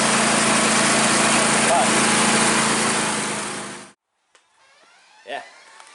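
A lawn tractor engine drones loudly and steadily up close for several seconds, then winds down and cuts off abruptly, after which a voice speaks briefly.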